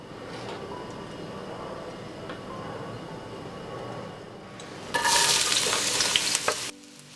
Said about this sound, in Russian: Идем обжаривать.